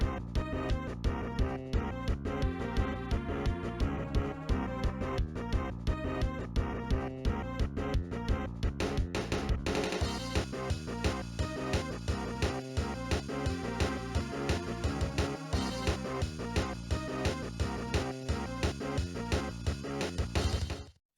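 Dense orchestral battle theme for a Pokemon-style video game, with a steady kick drum, snare, timpani and driving strings all playing together, loud and continuous for the whole stretch.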